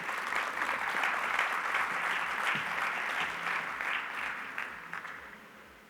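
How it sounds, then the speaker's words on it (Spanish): An audience at an economics congress applauds to welcome a government minister to the stage, a steady, dense clapping from a moderately sized crowd that holds for several seconds and then tapers off. "Recibamos con un gran aplauso al señor ministro Nicolás Grau."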